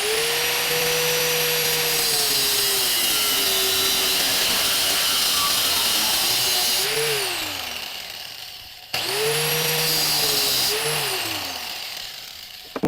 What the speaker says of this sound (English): I'm just going to cut it off with the angle grinder